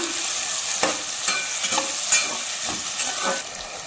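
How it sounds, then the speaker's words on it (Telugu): Eggplant and potato pieces frying in a pan with curry leaves, a steady loud sizzle broken by several scraping strokes of a spatula as the vegetables are turned, close and continuous. "వంకాయ ముక్కలు బంగాళ ముక్కలు కూడా వేసుకుంటున్నాను ఇప్పుడు తిప్పుకున్నా"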